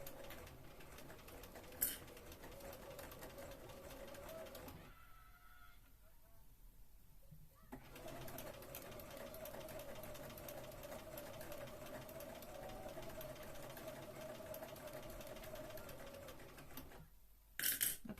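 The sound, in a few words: sewing machine stitching a Regency dress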